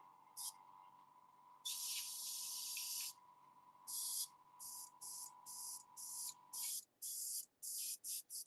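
An airbrush spraying purple paint lets out sharp bursts of hiss, one long spray followed by a string of shorter stop-start puffs over a steady faint tone, close and fairly quiet.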